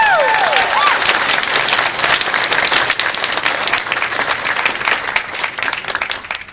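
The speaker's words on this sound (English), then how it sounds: "you deserve a round of applause for it." Sustained applause from a convention panel audience at an anime fan event, dense and loud throughout with a few whoops rising early on.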